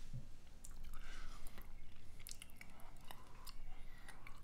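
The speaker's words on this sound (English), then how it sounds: "I'm still chewing on it." Close, quiet chewing of food, soft wet crunches and squishy bites repeating irregularly over a hushed background, with no speech.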